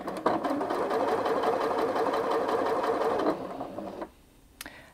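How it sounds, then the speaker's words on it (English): A Janome 5270QDC sewing machine stitching forward, a steady close rapid mechanical whir lasting several seconds before stopping, followed by a faint click. "If I let go of the button, it will now sew forwards in the usual way."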